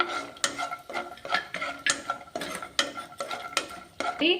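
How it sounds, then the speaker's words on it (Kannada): Peanuts roasting in oil for a capsicum curry, stirred with a utensil in a pan: a run of sharp, rhythmic scraping clinks and taps over a light sizzle, close and fairly quiet. "ಶೇಂಗಾ ಚೆನ್ನಾಗಿ ಹುರ್ಕೊಳ್ಳೋಣ ಎಣ್ಣೆಯಲ್ಲಿ"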